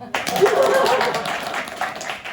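An audience at a sales talk breaks into applause, a short burst of clapping that starts suddenly and carries on for a couple of seconds, with voices mixed in beneath it.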